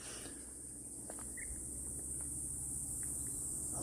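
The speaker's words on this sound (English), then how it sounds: "You can hear some sorts of crickets or something making some noise in the background." Crickets chirping outdoors in an Australian summer, a dense, steady high-pitched trill from many insects filling the background throughout.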